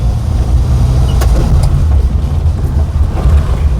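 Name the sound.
2000 Maruti Omni van engine labouring in second gear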